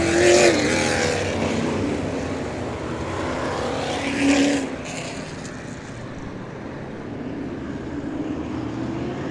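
A field of open-wheel modified race cars rolls around the speedway at Showtime Speedway under caution, their engines droning steadily at middle distance with a brief swell, and no talk.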